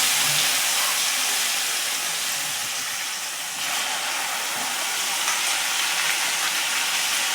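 Ginger and garlic sizzling in hot oil with asafoetida while making pav bhaji, a steady loud hiss and crackle of frying that holds evenly with a brief dip midway, no talking.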